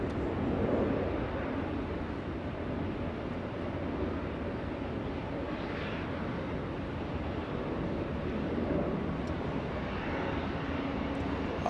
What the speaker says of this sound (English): Mexico 647 flying to Mexico City. That's a Dreamliner 787-8 using 25 right for departure.